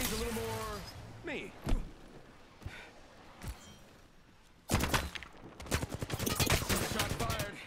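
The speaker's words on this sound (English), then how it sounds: "Shot fired, and they're hitting me." Gunfire in the Apex Legends video game: after some talking and scattered thumps, loud rapid bursts of automatic fire erupt and continue in quick, uneven volleys.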